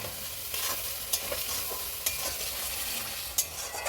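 Spiced masala with a couple of spoons of sour yogurt is stir-fried in a pan: a continuous soft sizzle with occasional sharp spatula scrapes and taps, fairly quiet and close, with no talking.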